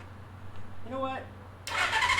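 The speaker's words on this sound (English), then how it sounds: "All right, let's push in the ignition. I'll just see if it does crank." A 1977 Suzuki GS550 cafe racer motorcycle engine gives a brief cranking burst that breaks in sharply near the end. A short voiced sound comes just before it.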